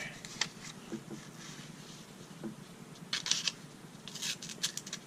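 A small hatchet blade on a Sheffield multi-tool scrapes and rasps against a sheet of paper. Faint, close scratchy swipes and crinkles come in scattered short bursts with no talk.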